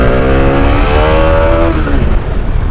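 A Bajaj Dominar 400 motorcycle engine revs loud and close with a steady droning tone that holds, then eases off before the engine settles into a rough idle.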